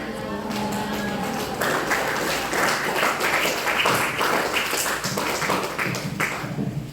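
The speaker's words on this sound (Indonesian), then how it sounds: "Sekali lagi ayo kita berikan tepuk tangan yang lebih meriah." Crowd applause at a school gathering, broad clapping that swells after about a second and a half and continues steadily to the end, with a voice heard over the start.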